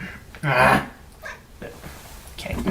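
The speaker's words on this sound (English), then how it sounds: "Our special guest, my cat, Bailey." Pet cat named Bailey gives a close, clear meow near the start, followed by softer vocal sounds and faint breathy noises, with a person's voice briefly audible nearby.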